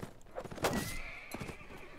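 A horse neighs in Mount & Blade: Warband: one loud whinny rising mid-clip over faint hoof clops and battle background, with no talk.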